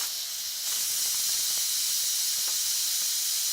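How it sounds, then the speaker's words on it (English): Steam hisses loudly and steadily from an Instant Pot during a fast pressure release, a continuous broadband rush that swells slightly after the first half second and holds for several seconds. "So you can do a fast pressure release."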